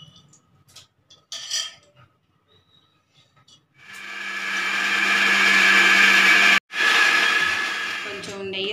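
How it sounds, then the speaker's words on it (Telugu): A mixer grinder whirs loudly and steadily for several seconds as it grinds soaked lentils and rice, briefly cutting out and restarting, after quieter clinks and knocks of setup. "मिक्सी चेस्तानु"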